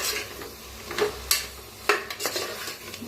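A spoon scrapes and clinks against a pan while turmeric, red chili powder, sabzi masala and coriander powder are mixed in for masale bhaat, making a few sharp metallic taps over a quiet background.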